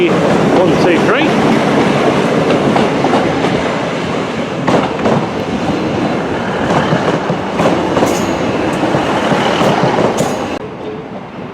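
Class 150 and Class 319 trains arriving at a busy Manchester station, with loud continuous rumbling, wheel clatter and brief squeals across the platform, and several trains moving in close succession under faint background voices.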